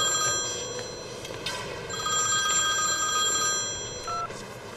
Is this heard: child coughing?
no